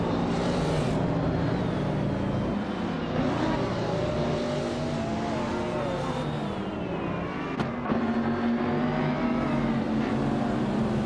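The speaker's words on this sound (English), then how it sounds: "the race is underway at Misano World Circuit. And leading the pack is bot Kickass Lady X3 in a 1995 Ferrari F50" Race cars led by a 1995 Ferrari F50 at Misano World Circuit in a racing video game, several engines whining and rising in pitch together as they accelerate hard, loud and continuous.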